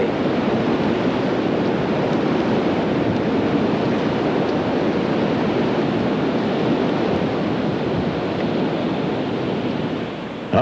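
Steady, loud wind roars across the microphone without pause, a broad rushing noise that fills the whole stretch with no voices.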